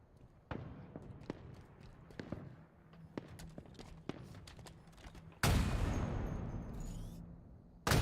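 Rapid gunfire crackles through a Halo match as a sniper rifle fires from across the map, a string of sharp repeated shots followed by a loud, sudden blast that rings out and fades.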